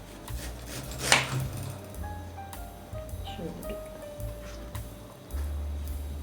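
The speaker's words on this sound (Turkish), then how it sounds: "İster büyük büyük doğrayın, ister küçük küçük." A knife chops vegetables for a salad on a cutting board in a series of quick, close taps, with one sharper knock early and soft kitchen clatter between.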